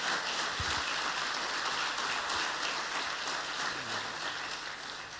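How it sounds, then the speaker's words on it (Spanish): Church congregation clapping together during a worship service, a steady dense patter of hands that fills the room evenly throughout without voices. "Den un aplauso al Señor"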